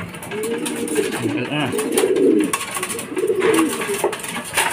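Racing pigeons at a loft during a derby arrival coo in rolling, repeated low phrases close by, with rustling and brief clatter underneath and people talking nearby.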